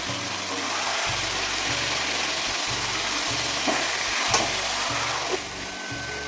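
Prawn and spice curry with turmeric sizzles in a pan on the stove as it is stirred, a steady close frying hiss under a faint low rhythmic hum.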